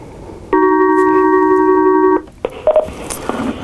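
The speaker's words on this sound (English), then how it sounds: "we got a phone caller coming in, so we're going to take this call" A steady multi-tone telephone ring signal on a call-in hunting radio show sounds loudly for about a second and a half, then cuts off into brief clicks and faint line noise.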